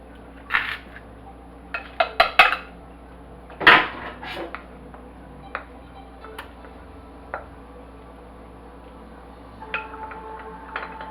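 A spoon scrapes and clinks against a glass Pyrex baking pan as macaroni and cheese is pushed into it, with a few sharp knocks early on and softer scrapes later, close by and without speech.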